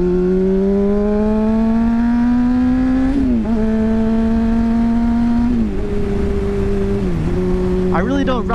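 A sportbike ridden at night climbs through the gears, its engine note rising and dropping at each shift, close and loud with rushing wind, ending in a burst of sharper revving.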